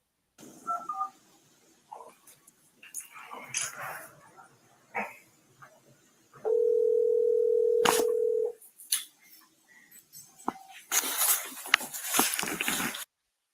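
A steady electronic phone tone sounds for about two seconds mid-call, loud and sustained, set among scattered dog barks, yips and whimpers, with brief clicks and rustling before and after.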